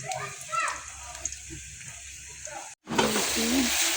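Curry with koi fish heads sizzling in a pan, a bright frying hiss that swells loudly after a short cut and runs under a woman's speech and household sounds.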